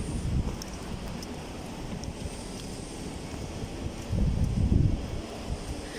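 Wind gusting across an open hilltop viewpoint at The Peak in Hong Kong, rumbling steadily into the microphone with a stronger buffeting burst near the end and no voices.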